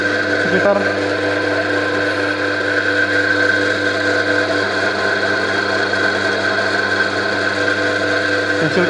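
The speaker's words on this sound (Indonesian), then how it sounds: "Lalu mengukur kecepatan putar dari generator." Electric generator spinning at about 1436 RPM during a lab test, giving a loud steady whine and hum that stays constant throughout with no pauses.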